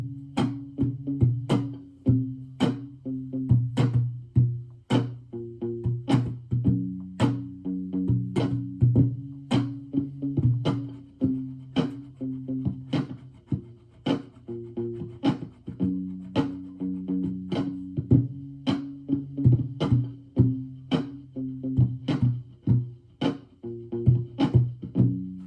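Several layered acoustic guitar parts loop together, plucked notes and strums repeating in a steady rhythm with no talking.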